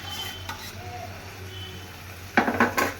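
Fried lote (Bombay duck) fish is stirred into a pan of potato and pumpkin, a low sizzle under faint clinks, then several close, sharp scraping strokes of a spoon against the pan near the end; no one talks.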